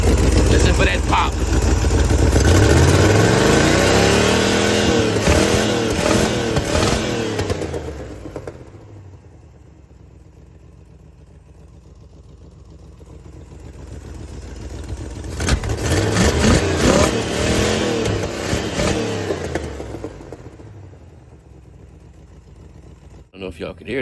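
A 1971 Monte Carlo engine with a suspected bad exhaust, revved up hard twice with rising and falling whine and popping through the carburetor, settling to a lower idle between, loud and close.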